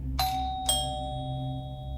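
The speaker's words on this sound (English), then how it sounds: "rang the bell" Two clear electronic doorbell chimes ring out in a quiet indoor setting, a ding followed about half a second later by a second tone, each with a lingering ringing decay over a low steady hum.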